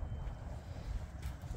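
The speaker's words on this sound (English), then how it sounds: "Oh, it's a little windy, huh?" Low, rumbling wind buffets the microphone steadily during a dog walk, with a dull roar and no voices.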